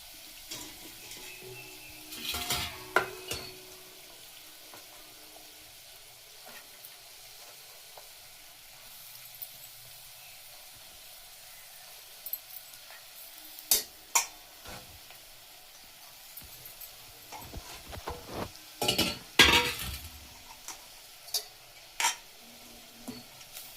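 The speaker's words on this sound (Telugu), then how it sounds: "క్యాబేజీ వేసుకుని అన్నింటిని బాగా కలుపుకొని" Cabbage and potato curry stirred in a pan, a quiet sizzle throughout with scattered scraping and clinking of a spoon against the pan in a few louder clusters.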